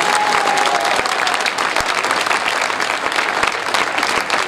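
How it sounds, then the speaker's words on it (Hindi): Audience at a Jain religious gathering in Bhopal gives loud, sustained applause, a dense wash of clapping that stays strong and even throughout, close and full. "सब एक बार जोरदार तालियां बजाएं"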